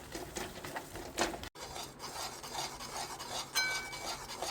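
Jaggery stirred in a pan over low heat as it melts, with a spoon scraping and rubbing in irregular strokes close by, a brief silent gap near the middle, and no talking.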